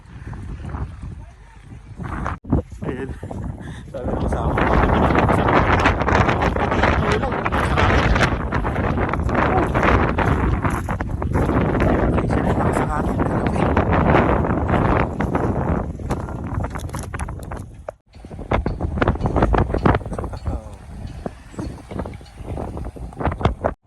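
Strong wind roars and buffets the microphone almost continuously outdoors in cold, snowy Canada, with brief lulls and a sudden drop near the end.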